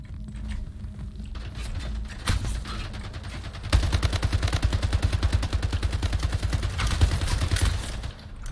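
Rapid automatic gunfire in the video game Splitgate, a dense, steady burst of close shots that runs for several seconds after some scattered earlier fire.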